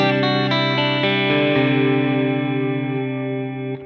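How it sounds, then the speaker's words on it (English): Electric guitar played through an Axe FX 3 Mark II on a tremolo deluxe reverb patch with delay, a few plucked notes ringing into a sustained, pulsing chord that slowly decays with lush reverb tails. "I'm running this through my Axe FX 3 Mark II on a setting that is derived from a tremolo deluxe reverb type patch"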